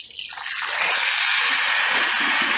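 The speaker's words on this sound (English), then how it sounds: "Rinse this table off." Water spraying and splashing to rinse off an outdoor garden table, a steady broadband hiss that swells within the first second and then holds, close and fairly loud with no talk.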